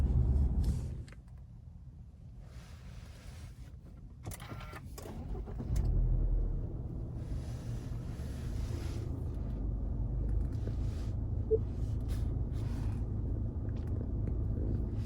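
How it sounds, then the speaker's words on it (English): A 2020 Subaru Outback engine idles as a steady low rumble throughout, with a brief mechanical shuffle early on and a slight rise partway through, and no voices. "All right, so we got the car turned on"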